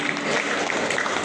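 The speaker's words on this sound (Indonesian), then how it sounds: "tepuk tangan" A church congregation applauding during a sermon, a continuous broad patter of clapping hands filling the room at moderate level, with no distinct voices on top.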